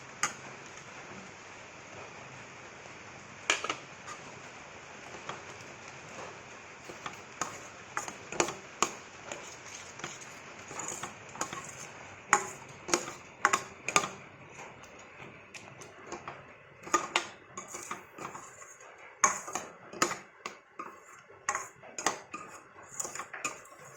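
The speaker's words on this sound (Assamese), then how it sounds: "গুড়া হৈ অলপকৈ দি লৰাই আছোঁ" A spoon stirs ground peanut powder into a bell pepper and peanut curry cooked in ghee. Sharp, irregular clinks and taps of metal against the pot come close and clear over a faint background hiss.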